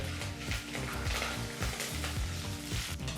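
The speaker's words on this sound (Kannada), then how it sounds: "ಮತ್ತೆ ಒಂದು ನಿಮಿಷ ಇದನ್ನೆಲ್ಲ ಚೆನ್ನಾಗಿ ಎಣ್ಣೆಯಲ್ಲಿ ಫ್ರೈ ಮಾಡಿದ ನಂತರ ಈಗ ಫ್ಲೇಮನ್ನು ಆಫ್ ಮಾಡ್ಕೊಳ್ಳೋಣ" Spices and seasoning for instant puliyogare temper in hot oil, giving a steady close sizzle and crackle with occasional stirring scrapes, with no talk over it.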